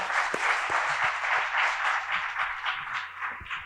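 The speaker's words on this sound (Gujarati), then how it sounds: "જોરદાર તાળીઓ પ્રજ્ઞાબેન માટે" At a women's poetry gathering in Gandhinagar, the crowd gives a round of applause. The clapping is steady and fairly close, with a few sharper individual claps standing out across nearly four seconds.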